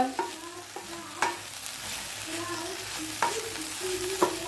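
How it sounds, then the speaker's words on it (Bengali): A chapati fries in a hot pan with a steady low sizzle, broken by occasional light clinks of a utensil. "রেডি আমার রুটি ভাজা।"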